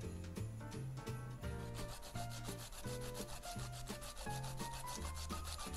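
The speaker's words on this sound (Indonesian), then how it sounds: "Selanjutnya ini kita parut. Parut. Pakai parutannya yang buat parutan keju ya guys." A carrot is grated on a cheese grater for a carrot cake, producing steady rhythmic rubbing strokes beneath prominent background music, with no talking.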